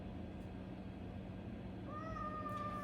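A cat cries with a drawn-out, plaintive meow near the end, close and clear over a steady indoor background hum.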